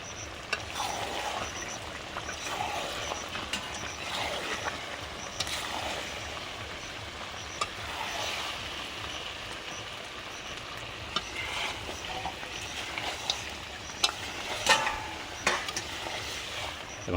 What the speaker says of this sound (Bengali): এদিকে মাছের ঝোল হচ্ছে, এদিকে মাংস কষা হচ্ছে।